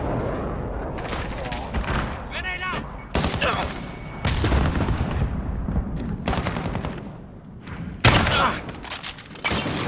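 Dense gunfire from the video game Call of Duty: Modern Warfare, with rapid automatic bursts, single shots and explosive booms crowding one another, loud and continuous, under game voices calling out.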